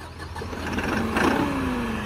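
A New Holland 5630 tractor engine runs close by, a steady mid-pitched hum that rises slightly as it revs, with no talking.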